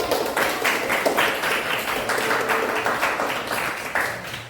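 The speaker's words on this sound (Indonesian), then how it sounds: "Tapi jangan lupa berikan aplaus dulu buat" A classroom of students applauds a group that has just finished presenting, a continuous burst of many hands clapping at close range, busy and uneven for several seconds.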